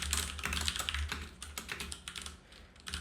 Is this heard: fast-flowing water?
no